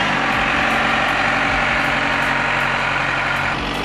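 A tractor engine runs steadily and loud up close while compacting soil at a park renovation, a continuous low heavy drone without breaks.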